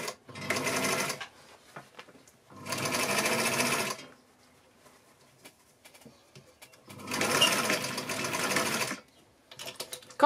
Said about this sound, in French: On tient les fils et on fait notre couture sans marche arrière